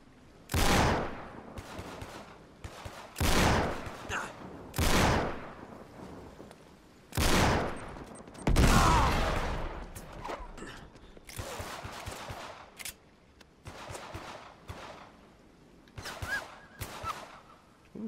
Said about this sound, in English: Shooting now.